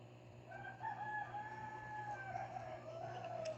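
A rooster crows once in a long drawn-out call, faint and somewhat distant, over a steady low mechanical hum.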